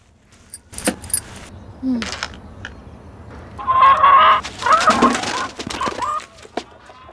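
A hen clucking close by in a village yard, several short bursts of squawky clucks mixed with jangling and rustling handling noises.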